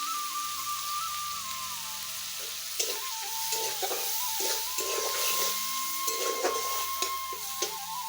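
Cumin paste goes into a frying pan of hot oil, giving a soft continuous sizzle with light spattering pops and a faint high tone running underneath, no voices.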